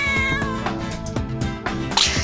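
A cartoon cat meows in an animated children's fairy tale, a loud, drawn-out call heard over steady background music.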